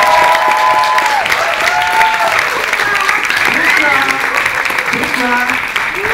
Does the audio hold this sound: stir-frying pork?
no